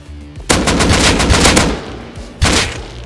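Two loud, sharp bolt-action rifle shots ring out in the video game Rust, the first followed by a long ringing tail and the second about two seconds later.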